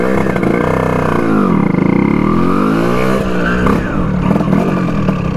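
A Vespa scooter engine fitted with an M1L 60mm kit revs loud and close. Its two-stroke note sweeps up and down in pitch through repeated throttle blips, with a buzzy, rasping tone throughout.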